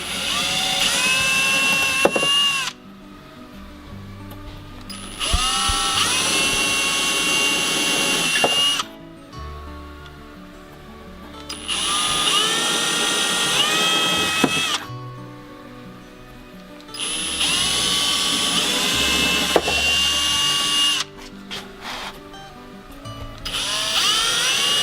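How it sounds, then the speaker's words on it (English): A power drill bores into a door in three long whirring bursts, each several seconds long. The drilling is loud and close, with pauses of near quiet between the runs and no one talking. "You want to make sure your drill is perfectly plumb."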